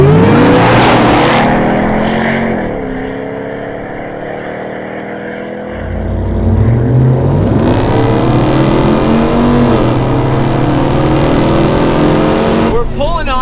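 A Hennessey Venom 775 F-150 and a RAM TRX pickup in automatic mode accelerate hard from a standing start, loud engines rising in pitch through upshifts, fading briefly then surging again, with voices over the roar.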